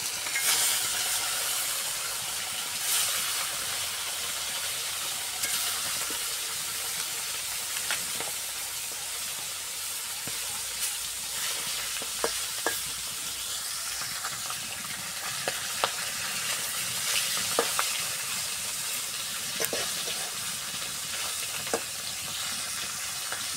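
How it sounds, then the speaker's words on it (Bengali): Tilapia frying in oil in a wok makes a long, steady sizzling hiss, dotted with occasional light clicks and pops close by. "এখন মাছটা ভেজে নিব।"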